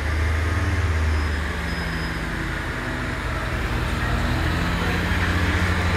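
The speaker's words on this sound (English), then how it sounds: "So that's 142061, just departing Chester train station, going to Manchester Piccadilly via Stockport" Class 142 diesel train 142061 pulls away from Chester station, a steady, loud engine rumble and broadband rolling noise that holds evenly throughout.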